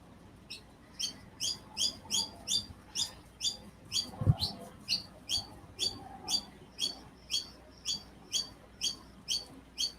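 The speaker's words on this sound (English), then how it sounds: "can you hear that bird?" Myna bird calling outdoors, repeating short bright chirps in a steady, evenly spaced series at moderate distance, with one dull thump partway through.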